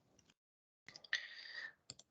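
Faint computer mouse clicks in a quiet room: a couple of single clicks, a short rattling burst, then a final quick double click, with no talking.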